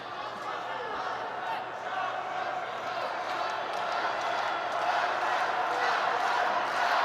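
A judo crowd at the Tbilisi Grand Slam roars and shouts during the men's -66 kg final block, a sustained, swelling wall of cheering with a commentator's voice talking over it.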